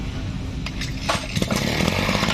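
The engine of a used Japanese Maruyama brush cutter runs and revs close by. Its loud, buzzing roar rises as the throttle is held open, with no talking.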